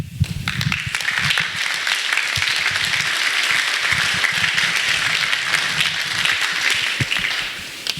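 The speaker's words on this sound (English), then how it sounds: "Let's give Lisa and Nicole another round of applause" Sustained audience applause at a cattle seminar, a dense wash of many hands clapping steadily for about eight seconds before tapering slightly at the end.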